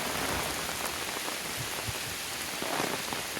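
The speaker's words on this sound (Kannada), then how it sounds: "ಓನ್ಲಿ ಮಳೆ ಮಳೆ ಮಳೆ" Steady rain pours through a forest on a hike in the Bisle Ghat, a dense continuous hiss with scattered nearby drips and patters, no voices.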